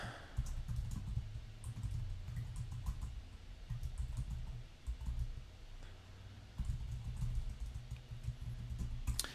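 Rapid, steady clicking of a computer keyboard as a social media post is typed, continuous soft keystrokes with a brief pause midway.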